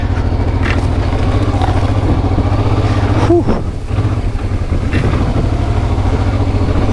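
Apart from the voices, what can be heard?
motorcycle riding through deep sand on a car tire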